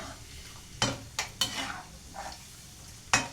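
Cashew nuts fry in a pan for boondi laddu with a soft sizzle, punctuated by a handful of sharp spoon-against-pan clinks and scrapes at irregular intervals.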